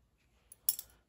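A few quiet metallic clicks and a brief snap of small steel locking scissors being handled, the loudest click near the end, with nothing else around it.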